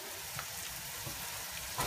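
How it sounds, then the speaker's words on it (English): Steady crackling sizzle of onions and garlic frying in a pan, continuous and moderately loud with no voices. "the onion and garlic. It is starting to sizzle."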